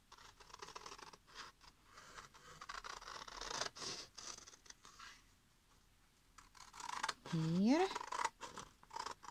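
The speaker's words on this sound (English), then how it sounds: "So I'm gonna cut out the box." Scissors snip through a sheet of cardstock as a box shape is cut out for a Valentine's letter box, with repeated close scratchy cuts in bursts and brief talk near the start.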